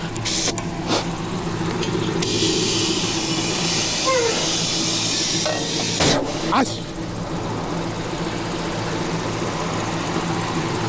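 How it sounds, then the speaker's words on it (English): A Cheetah air tank blasts air into a truck trailer tire, giving a loud, broad hiss that surges for a few seconds and then settles into a steadier rush over a low engine-like hum. "while I let that tire air up"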